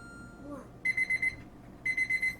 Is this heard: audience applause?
no